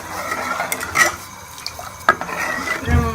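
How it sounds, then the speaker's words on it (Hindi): A utensil stirs sugar into hot milk in a pot, giving a few quiet scrapes and light metallic clinks, with a louder knock near the end. "अब हम इसके अंदर चीनी को डाल देंगे और इसको मिक्स कर लेंगे"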